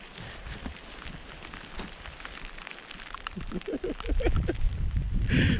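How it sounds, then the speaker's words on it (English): Steady rain falls outdoors on a rainy day near a yurt, a constant soft hiss with scattered drops that grows louder and denser toward the end. No one speaks. "It sure is raining."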